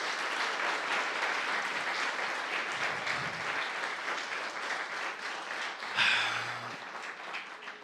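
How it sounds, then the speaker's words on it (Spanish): Church congregation applauding during a worship service, a steady sustained wash of clapping from many hands throughout, with a brief swell and a faint voice near the end. "Damos un aplauso al Espíritu Santo."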